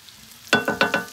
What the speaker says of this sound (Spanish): Ahí vamos a dejar a que se sofría